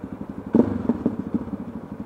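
Motorcycle engine and exhaust note while riding through a narrow street, a steady low throbbing rumble that swells into a louder burst of revving about halfway in, then continues pulsing unevenly close by.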